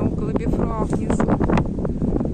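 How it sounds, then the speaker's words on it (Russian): Strong seaside wind buffets the microphone in steady broadband gusts for a couple of seconds, loud and close, with a voice talking over it. "Но здесь, конечно, страшно стоять, здесь ветер."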